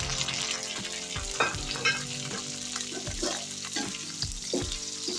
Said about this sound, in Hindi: पहले मैं इसमें चिकन डाल दूंगी